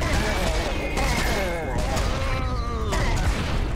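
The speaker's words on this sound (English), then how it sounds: "The grenaders blow up when they die." Grenadier enemies in Serious Sam 4 burst apart on death amid dense, continuous gunfire and explosion noise from the shooter game, loud and busy throughout with no clear gaps.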